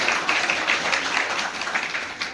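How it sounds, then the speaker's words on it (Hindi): Loud audience applause for an elderly self-help-group woman at a gathering in Ayodhya, a short dense burst of clapping that cuts off abruptly. "जोरदार तालियां।"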